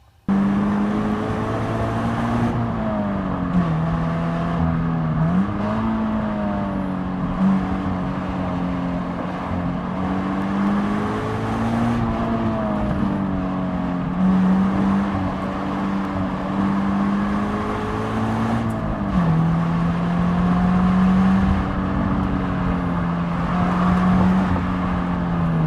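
A Subaru BRZ with traction control off and stability control deleted is driven flat out along a twisting hillside loop, its engine revving high and loud through repeated upshifts, pitch climbing and dropping with each gear change.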